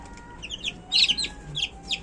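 Young chicks recently hatched from an incubator, kept outdoors, give quiet scattered high chirps and short peeps in a few bursts, faint and close.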